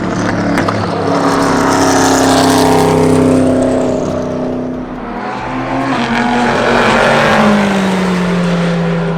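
The Dusel Corvette race car roars toward the track position at speed, a loud, sustained engine note rising and shifting in pitch as it nears, dipping briefly, then climbing again with another pass.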